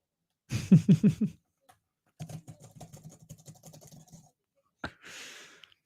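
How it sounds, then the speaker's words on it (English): Computer keyboard typing comes in short, quiet bursts of rapid key clicks with gaps between them, heard close and fairly faint with no voices. "Can you hear the typing sound?"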